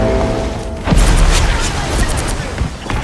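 In a video game, an explosive self-detonates with a deep booming blast, followed by rumbling debris and scattered crackling bursts, under a player's ongoing voice chat.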